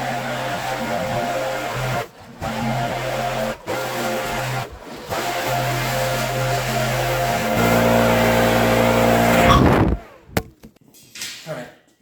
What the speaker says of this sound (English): This is the jankiest way I've ever seen anybody use a backpack blower